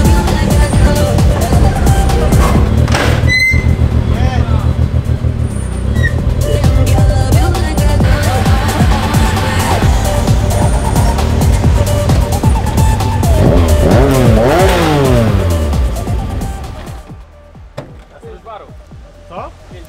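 A BMW M3 E46 engine revs hard and high for a long stretch, loud and close, the pitch climbing and falling before it cuts back to idle.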